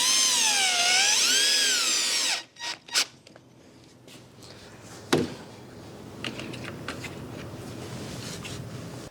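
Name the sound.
drill driving screw into pressure treated wood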